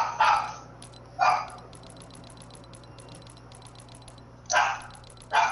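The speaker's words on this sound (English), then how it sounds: "What are you barking at, Peanut?" A dog barks in short, sharp bursts, about four in all with long pauses between, over a steady hum of game audio and ticking, fairly close and clear.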